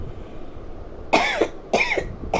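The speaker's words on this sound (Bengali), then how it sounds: "কাশি উঠে গেছে বন্ধুরা" A person coughs twice, short sharp bursts close to the microphone, with a third cough just beginning at the end over a quiet indoor background.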